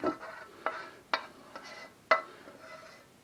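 A utensil stirring onions and browned bits in a pan for stroganoff, giving four or five distinct scraping clinks at irregular intervals over a quiet background, close and fairly crisp.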